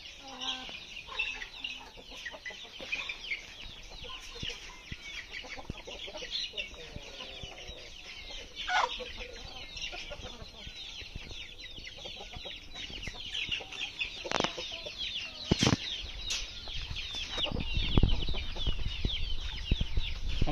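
Aseel chickens cluck intermittently at a moderate distance on a farm, with occasional sharp squawks and light scuffling over a quiet outdoor background.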